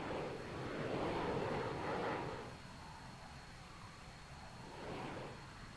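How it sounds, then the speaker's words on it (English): A jet taxiing toward the runway in ARMA 3, a faint, distant engine rumble and airy roar that swells, eases and swells again, with no talk over it. "So let's taxi to the runway,"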